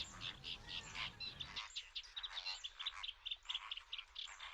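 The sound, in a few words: Audouin's gull colony calls, Ebro delta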